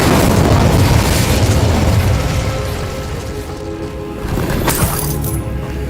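An Incendio fire spell cast in Hogwarts Legacy against devil's snare erupts as a loud, dense roaring blast that fills the clip, easing slightly midway before a second surge of crackling fire near the end.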